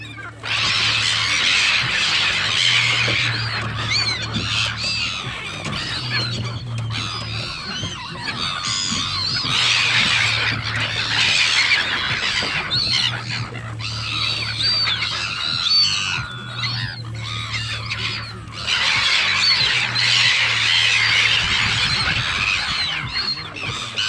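Continuous loud squawking and honking from a flock of gulls, overlapping calls filling the whole stretch with a steady low hum beneath.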